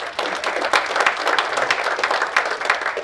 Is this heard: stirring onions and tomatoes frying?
no